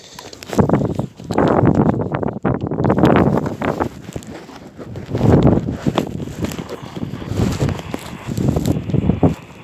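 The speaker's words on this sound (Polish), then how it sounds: "ale mi wieje." Wind gusts outdoors buffet a handheld microphone during a CB and PMR radio session, producing loud, rumbling bursts that come and go unevenly throughout.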